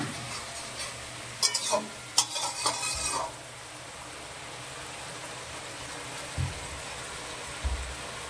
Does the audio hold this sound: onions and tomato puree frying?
yes